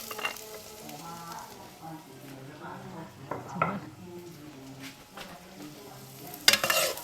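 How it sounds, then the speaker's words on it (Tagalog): Shells and ginger are stir-fried in a pan, oil sizzling steadily while a utensil scrapes and clinks against the metal in irregular strokes, with a sharper clatter near the end. "So we need to cook this first too. And then the ginger."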